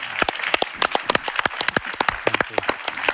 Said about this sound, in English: May I please ask everyone to give a great round of applause to the panelists